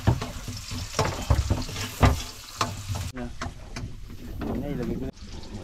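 Garlic, ginger and onion sauté in a pan with steady frying sizzle and stirring clatter, while someone talks over the cooking.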